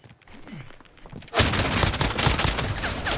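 Gunfire in Call of Duty: Modern Warfare, starting after a quieter stretch with faint beeps and a voice, then a sudden loud, dense burst of rapid shots that continues to the end.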